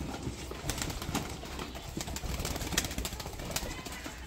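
Pigeons cooing nearby in Pakistan, low soft coos repeating under a steady wash of background noise, with faint flutters.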